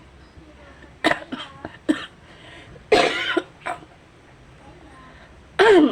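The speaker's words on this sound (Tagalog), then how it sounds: "ubo ako ng ubo" Someone nearby coughs repeatedly in short, harsh fits, with a few brief words spoken between the coughs.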